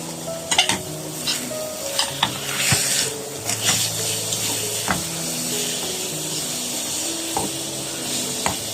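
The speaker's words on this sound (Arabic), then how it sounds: "وهنزل ببقيه الخضار بتاعي، نقلبهم مع بعض خلاص." Vegetables and chicken sizzling in a hot frying pan while being stirred, with a steady frying hiss and repeated scraping clinks of a utensil against the pan, close up with no talk.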